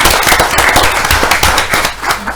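Applause at a village board meeting honoring a retiring HR director: loud, close, dense hand clapping that continues steadily.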